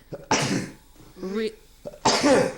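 Two sharp sneeze-like bursts, one near the start and one near the end, with a short vocal sound between them.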